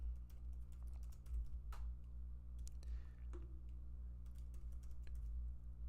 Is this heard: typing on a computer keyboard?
yes